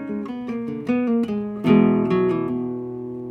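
A quick run of bulerías on flamenco guitar, played fast with the thumb, gives a series of crisp plucked notes and a louder strummed accent midway, close and clear with no talking.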